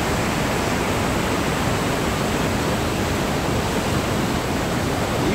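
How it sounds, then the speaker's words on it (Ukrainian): Rushing water at the top of a waterfall, a loud, unbroken roar of falling water filling the whole space up close, steady from start to finish with no voices. "Який поток води, який поток жизненної енергії."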